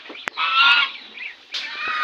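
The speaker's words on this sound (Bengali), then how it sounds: "ওই দেখো এই হাঁসগুলো বা কিরকম করে। হ্যাঁ ফুসফুস করে সাপের মতো।" Geese by a playing field hissing like snakes, two sustained breathy hisses with a short gap between them, close and fairly loud.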